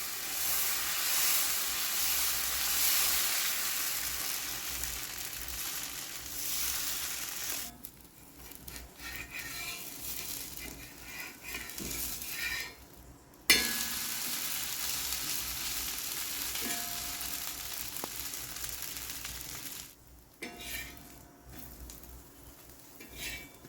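Millet dosa batter made from kambu sizzles on a hot pan with a steady, bright frying hiss that drops away in spots and returns, with occasional soft clinks of a utensil against the pan.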